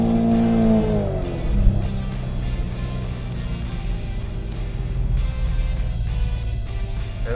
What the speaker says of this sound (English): right here is where I floor it